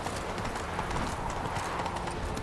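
Hooves of the horse Roach clip-clopping along in The Witcher 3 game, a steady rhythmic trot heard close and continuous under a dense, even layer of game ambience.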